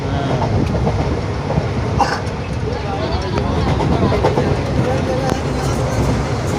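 A packed general-class carriage of a train running toward Gorakhpur rattles along with continuous clickety-clack and rumbling wheel noise, steady and loud throughout, with scattered clunks and knocks.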